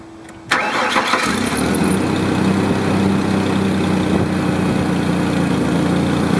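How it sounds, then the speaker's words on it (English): A car engine starts with a brief whirring crank that catches, then settles into a loud, steady idle close by. "Now I'm going to go turn the engine on"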